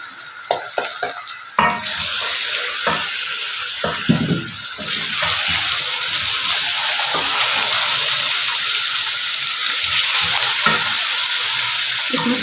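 Ground chicken keema going into masala in a pan, frying with a steady sizzle while being stirred, with scraping clicks early on and a brief watery splash; no talking.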